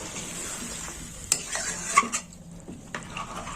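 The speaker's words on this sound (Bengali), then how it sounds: "দিয়ে দিলাম জল, ভালো করে নেড়ে চেড়ে নেব" Mutton curry being stirred in a pot after water has been added, with soft scraping and a few sharp clinks of the spoon against the pot over a low simmering hiss.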